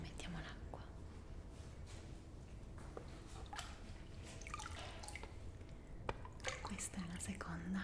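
Aromatic water with essential oils drips and trickles in a Finnish sauna in soft, scattered, close drops, with whispering heard throughout.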